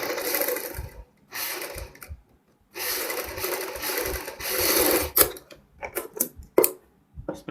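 A sewing machine sews straight seams on a kurti alongside paper fuse, running in loud bursts of steady whirring separated by pauses, followed by shorter stop-start runs and clicks near the end.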